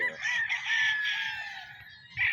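A white Kelso gamecock crows close and loud in one long, drawn-out call lasting about two seconds, followed by the clipped start of another crow at the end.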